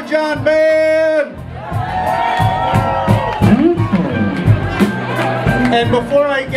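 A club crowd cheers and whoops for a band, loud shouts and hubbub rising after a voice on the mic, with the cheering continuing through to the end.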